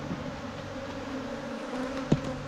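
Honey bees buzz steadily around an opened hive being built up for almond pollination, a continuous close drone with a brief louder swell near the end as a bee passes by.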